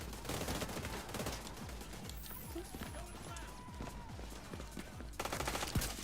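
Sniper rifle fire in The Division 2, a busy game soundscape of rapid clattering shots and impacts, with someone talking over the din.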